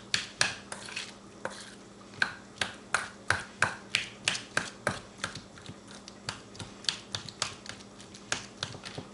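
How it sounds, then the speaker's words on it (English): Avocado is mashed against the side of a bowl for chunky homemade guacamole; a steady run of sharp, close clicks and squishes repeats about twice a second, fairly quiet with no talking. "Just mashing it up against the side, stirring it a little bit every now and then."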